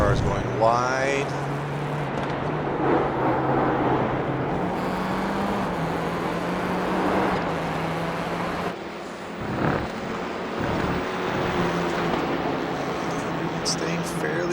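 Race cars on a dirt section at Daytona in a racing video game, a continuous engine drone with shifting pitch and rumbling road noise, heard beneath steady commentary speech.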